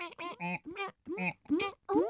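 Cartoon ducks on a farm quack in a quick run of short, nasal calls, several bursts in succession, close and clear with no talk over them.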